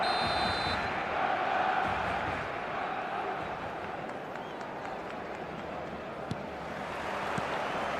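Match-day stadium crowd in an eFootball game, a broad steady murmur and roar that fills the whole stretch at moderate level, easing slightly toward the end.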